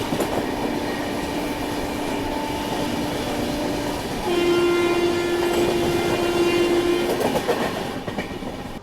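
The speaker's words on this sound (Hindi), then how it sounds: "और सामने से कोई तो ट्रेन आ रही है। तो ये है हैदराबाद निज़ामुद्दीन दक्षिण सुपरफास्ट एक्सप्रेस।" A train rumbles steadily past a railway line near Nagpur Junction, with a long, sustained horn blast sounding partway through over the continuous rolling noise and clatter of the wagons.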